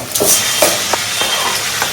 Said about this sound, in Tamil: தக்காளி லைட்டாக வதங்க ஸ்டார்ட் ஆகிடுச்சு.